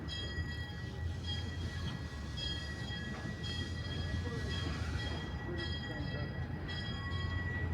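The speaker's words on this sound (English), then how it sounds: "I think the train is backing in." A train backing slowly into a station near Cripple Creek, Colorado rumbles nearby with a steady low mechanical drone and faint metallic whines, continuous throughout.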